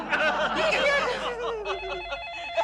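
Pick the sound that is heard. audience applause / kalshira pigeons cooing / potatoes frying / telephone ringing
telephone ringing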